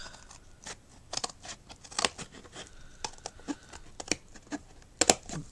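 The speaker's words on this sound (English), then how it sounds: "either with a knife or a decent pair of scissors, I'm just going to cut that down." Scissors make several crisp snips and crunchy cuts through stiff grey board, irregular and close, with short pauses between strokes and a sharper burst near the end.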